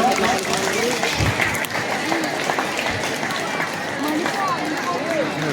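An audience claps at a school anniversary celebration at GHSS Krishnapuram, a continuous wash of applause with voices talking over it throughout.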